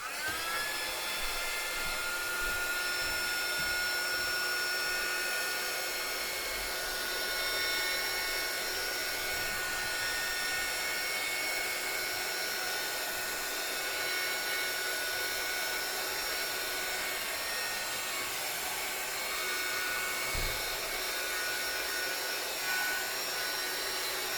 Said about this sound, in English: going to put my heat gun on it.